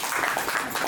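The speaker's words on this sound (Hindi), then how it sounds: "मैम के लिए एक बार जोरदार तालियाँ" Applause for a woman honoured at a leaders' meeting: a brief, dense burst of clapping from a gathered group, steady and fairly close for about a second.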